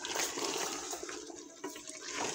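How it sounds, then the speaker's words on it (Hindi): Water pours and splashes steadily into a cooking pot of meat, close by, with a gurgling liquid texture and no talking. "और पानी डालती हूँ पकने के लिए,"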